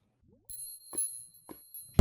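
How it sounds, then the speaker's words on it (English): Wind chimes clicked in the Minecraft SevTech Ages modpack give a few bright, short metallic rings spaced about half a second apart, with a sustained high tone lingering between the strikes. "I noticed you have to shift click the chimes."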